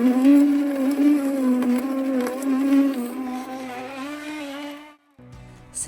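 An AMZChef JE120-78 slow juicer's auger grinds beets and apple, a close, steady buzzing motor hum with a strained grinding tone that cuts off near the end, with no talk.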